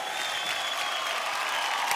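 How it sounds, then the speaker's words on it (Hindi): Steady audience applause fills a TV studio during a Zee TV comedy game show, a dense, even patter of clapping with faint crowd noise that continues at constant loudness throughout. "तालियां"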